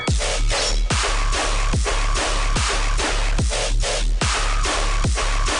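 Dubstep drop with heavy bass and a held sustain note landing on the snare, loud and dense with a steady pulsing rhythm of kicks and snares throughout, no voices.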